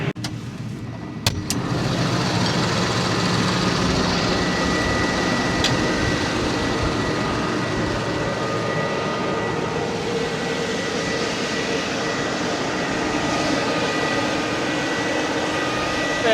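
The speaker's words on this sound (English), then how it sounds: "Much easier travelling for the drill tractor now." A drill tractor's engine drones steadily and continuously as it drives around the headlands of a wet, muddy silt field, sounding near and even throughout, with a few sharp clicks just at the start.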